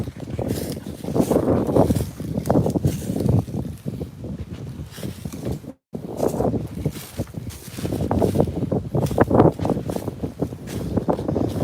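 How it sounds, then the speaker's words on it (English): Heavy gusting wind buffets the microphone in rough, roaring bursts, with a brief dropout midway, no voices. "I'm sure you can't hardly hear because of the wind"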